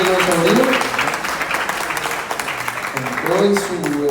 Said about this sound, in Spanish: Fuerte el aplauso para Ángelo Sobrino.